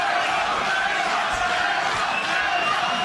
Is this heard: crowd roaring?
yes